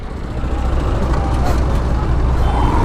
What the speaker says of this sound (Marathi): ट्रॅफिक बघा ट्रॅफिक नवीन रोड बनवला आहे पण ट्रॅफिक मजबूत आहे